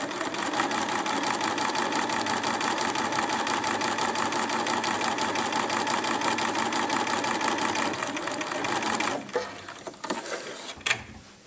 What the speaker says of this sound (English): Back stitch and sew.